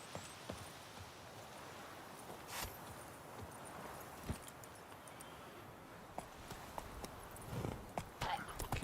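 Horse hooves clip-clop in a steady rhythm while riding in the video game The Witcher 3, fairly faint and close, with sharper hoof strikes scattered across and a few louder thumps near the end.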